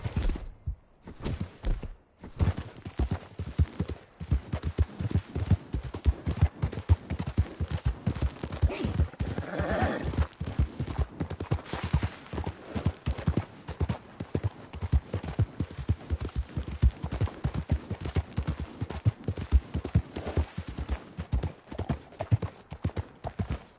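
Horse hooves in Red Dead Redemption 2 pound out a fast, steady galloping clip-clop up close for the whole stretch, with a brief voice and some scattered game noise mixed in.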